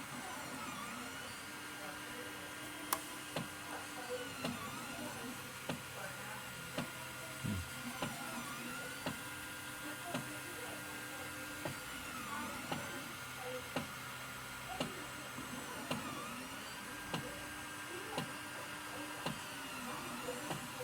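A 3D printer's stepper motors whine and hum in repeating rising and falling tones while printing a raft, with small clicks, running steadily at low volume.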